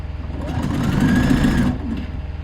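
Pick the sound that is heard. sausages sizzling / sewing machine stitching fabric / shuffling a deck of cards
sewing machine stitching fabric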